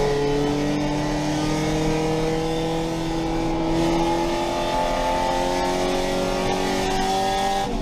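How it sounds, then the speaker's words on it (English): A race car engine during a championship race, modulating on and off throttle with rising and falling harmonic drone, loud and continuous, with no voices. "You can hear him kind of waffling on and off throttle."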